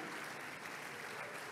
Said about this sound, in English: Please clap for Mr. and Mrs.